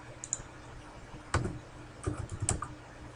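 Typing on a computer keyboard: a few scattered clicks, then two short clustered bursts of key presses, close and fairly quiet, with no talking.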